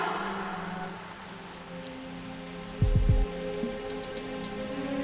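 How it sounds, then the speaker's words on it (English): Rain falls in the video game Reverse: 1999 as a steady, even hiss of patter, briefly broken by a louder thump in the middle, with no voices. "The rain is making too much noise."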